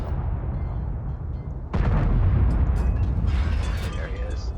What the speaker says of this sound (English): so I'm gonna try to blind fire this guy